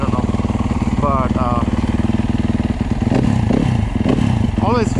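A Yamaha YZ250FX dirt bike engine idles with a lumpy, uneven beat, then blips and revs loudly up close with a stumble before pulling away, while someone talks over it.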